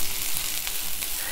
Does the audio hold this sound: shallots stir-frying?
yes